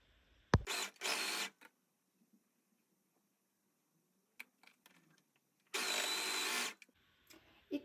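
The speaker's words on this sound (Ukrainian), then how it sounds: "ставимо одна на одну частинку і шиємо на швейній машині" A sewing machine stitches together pieces of embroidered lingerie fabric in two short whirring bursts of about a second each, close and clear, separated by quiet handling clicks.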